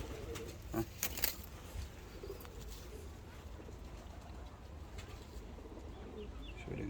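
Pigeons from Kayseri, just let out of a box, give soft low coos and faint rustles nearby against a quiet background, with a few short louder bursts early on.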